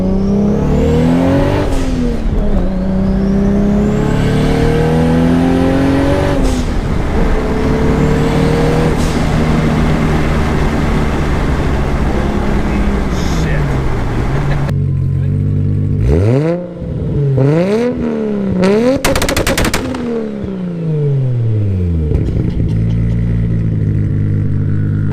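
A Toyota Supra runs at full throttle, its engine note climbing loudly and close in repeated rising sweeps as it revs through the gears, with brief dips between shifts.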